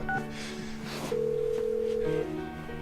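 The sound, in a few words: phone ringing in a video game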